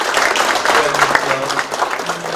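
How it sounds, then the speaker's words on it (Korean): Applause from an audience at a business agreement signing ceremony, a short burst of dense clapping with voices mixed in. "다시 한번 큰 박수"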